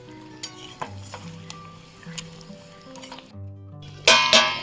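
Hilsa fish in mustard oil curry frying and being stirred in a pan: a soft continuous sizzle under music, with a few light utensil clinks and a louder scraping burst near the end.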